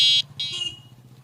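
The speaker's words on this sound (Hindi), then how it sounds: "हॉर्न हो गया।" A horn on a homemade, free-running bike built by a village student gives two short electronic beeps over a steady low hum, loud and close.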